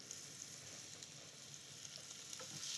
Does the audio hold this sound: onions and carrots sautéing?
yes